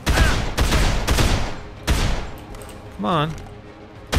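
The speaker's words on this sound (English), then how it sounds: "Doing some pretty decent damage with this rifle, that's for sure." Bursts of rifle fire from Dead Island crack out in rapid clusters at the start and again midway, loud and close, with a brief spoken remark in between and a final shot at the end.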